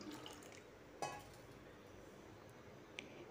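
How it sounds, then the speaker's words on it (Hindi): Water is poured into a pressure cooker holding soaked black chickpeas, a faint liquid trickle and splash with a couple of small clinks against the pot, quiet and close. "चने से डबल पानी डाल देंगे कुकर में।"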